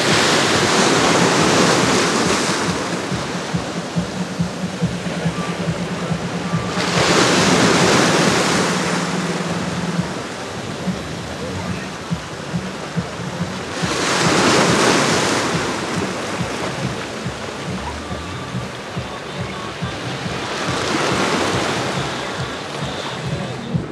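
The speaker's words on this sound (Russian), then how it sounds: "Такой прибой прикольный." Sea surf breaking on the shore beside an embankment in Anapa, loud rolling waves surging in about every seven seconds and washing back between them, with wind rumbling across the microphone.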